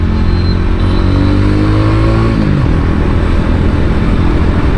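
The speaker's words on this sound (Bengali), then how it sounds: "আর এক্সস্ট নোট সেরা আছে গাড়িটার।" A TVS Ronin 225 motorcycle's exhaust revs up loudly close by, rising in pitch and then dropping back to a rough, steady rumble, with no talk.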